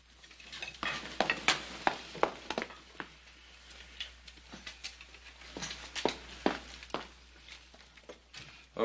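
Steaks sizzle and fry in a frontier restaurant kitchen in a classic western film, with scattered clatters of pans and plates breaking through the steady crackle at moderate volume.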